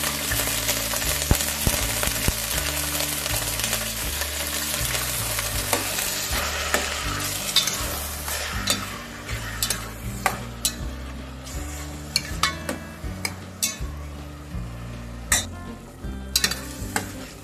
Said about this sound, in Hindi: ये हमने अभी दूधी को घी का तड़का दे दिया है